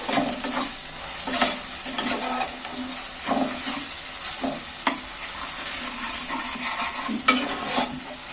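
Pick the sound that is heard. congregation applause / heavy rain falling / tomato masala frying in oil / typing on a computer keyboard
tomato masala frying in oil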